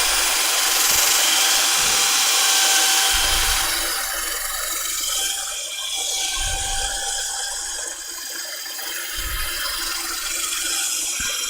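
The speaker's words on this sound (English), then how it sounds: "So I'm just going to gently sand this up." Sandpaper rubs against turned wood spinning on a lathe running at reduced speed, a steady hissing abrasion over the motor hum, close and continuous with slight dips in intensity.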